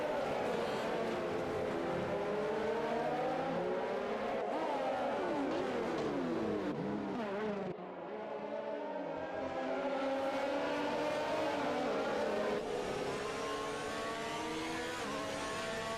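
Racing cars on the Monaco Grand Prix circuit in an Xbox One racing game roar steadily and close, engines revving and shifting pitch as cars pass, with a brief dip in the noise partway through.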